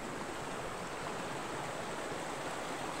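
Creek water rushes in a steady, unbroken hiss, close and fairly quiet, with no voices.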